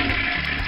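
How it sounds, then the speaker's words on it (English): A toy potty's flush sound effect plays loudly and steadily for under a second, a dense rushing wash of noise with a few soft pulses, with no talking over it. "Now all we have to do is flush it!"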